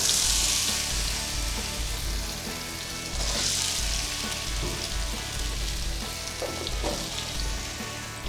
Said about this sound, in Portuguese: Vou colocar um pouco de azeite de oliva na frigideira e vamos trabalhar essas batatas.